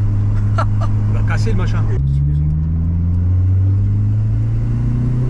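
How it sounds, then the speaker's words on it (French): A carburetted VW Golf 2 fitted with a turbo drones loudly from inside the car, its engine tone stepping up sharply partway through and holding steady under a turbo rush while people talk. "C'est le turbo, c'est normal."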